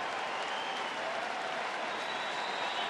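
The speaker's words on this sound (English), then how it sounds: "he'll get a standing ovation from the crowd here at Coors Field" A crowd at Coors Field gives a standing ovation at a baseball game, with sustained, dense applause and cheering that holds steady and loud for the whole stretch.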